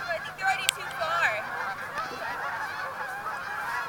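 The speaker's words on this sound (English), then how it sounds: "How do we end the noise of the ducks?" Ducks honking loudly and steadily, several birds calling at once near a pond, with overlapping bursts and one sharp close call.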